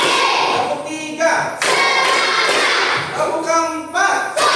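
A classroom of students claps together in short rhythmic bursts, several groups of claps separated by brief pauses. A teacher calls out counts between them.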